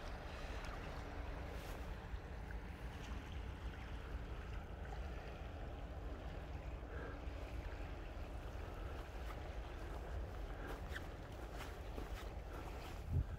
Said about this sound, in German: Das ist dieser Bach, dem ich letztes Mal gefolgt bin.